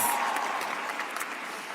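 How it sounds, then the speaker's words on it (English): A commencement audience claps in a brief, moderately faint burst of applause that tapers off within a couple of seconds. "Give yourselves a round of applause."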